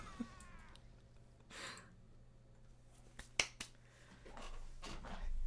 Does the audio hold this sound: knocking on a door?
no